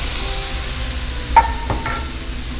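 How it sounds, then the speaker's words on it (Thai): Minced beef sizzles in a hot pan as it is stir-fried for a Thai holy basil stir-fry, with a low steady frying hiss broken by a few sharp scrapes of the spatula. "ทีนี้ก็ลง เนื้อของเราที่เราสับไปนะครับ"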